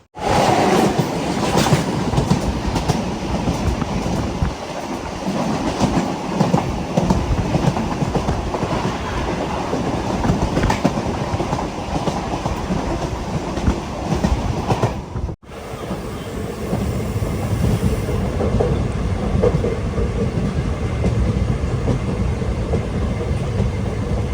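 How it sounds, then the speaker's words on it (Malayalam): A passenger train runs between Kollam and Thiruvananthapuram, heard from inside a general class coach. The loud, continuous rumble carries rail clatter and cuts out briefly midway before resuming. "ട്രെയിൻ ഇപ്പോൾ പരവൂർ റെയിൽവേ സ്റ്റേഷനിലേക്ക് എത്തിയ."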